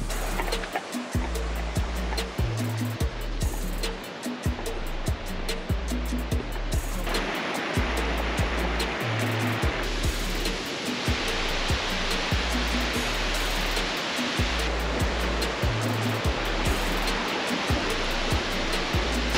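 Tamul waterfall on the Gallinas River in Mexico pours as a loud, steady broadband roar that fills the scene continuously, with a low rhythmic pulsing beneath it.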